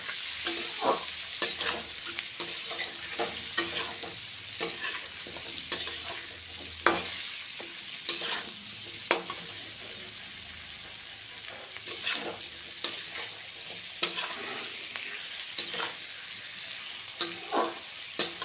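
Potatoes and pointed gourd sizzle steadily as they fry in a pan, with repeated sharp scraping strokes of stirring over the continuous hiss, close and fairly loud, with no talk.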